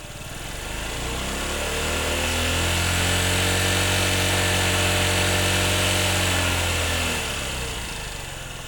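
A 2023 Honda scooter engine runs close to the microphone with a smooth, buzzy hum that swells in the middle and then eases back down, heard alone without speech.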